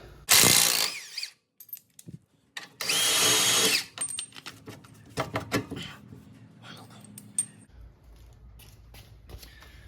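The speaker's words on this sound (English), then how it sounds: "I'm gonna get these lower shock bolts out." A ratchet tool backs out the lower shock bolts on a vehicle during a Currie RockJock Antirock sway bar install. Two loud, sustained bursts of tool noise are followed by scattered clicks and clanks of metal, with brief talk.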